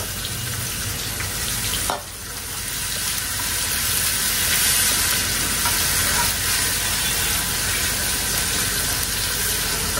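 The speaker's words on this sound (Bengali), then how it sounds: "পেঁয়াজ টিয়াজ সব ভালো করে ভাজা ভাজা করে নিচ্ছি।" Onions fry in a pan with a dry red chilli tempering, giving a loud, dense, continuous sizzle close to the microphone, with one brief knock near the start and no talking.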